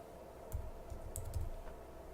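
Typing on a computer keyboard, a handful of soft, close key clicks in an uneven rhythm over a faint steady room hum, brief and quiet.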